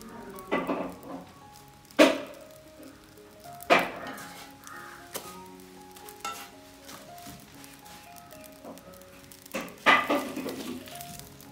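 Oil sizzles steadily in a pan as snacks and pathiri are fried for a Ramadan iftar meal in a home kitchen, with occasional utensil clatters and scrapes over the continuous hiss and no talking.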